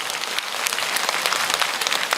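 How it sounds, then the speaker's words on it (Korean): Audience applause at a talk or lecture, steady dense clapping from a crowd filling the short span evenly and fairly loud, with no voices over it. "아주 쑥스러우네. 내가 박수 받으려고 그러는 게 아닌데."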